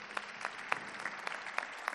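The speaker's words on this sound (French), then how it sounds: "Messieurs, dames, sous vos applaudissements" An audience at a business awards ceremony in Haute-Vienne applauds, with individual claps standing out distinctly over a thinner background of clapping in a large hall.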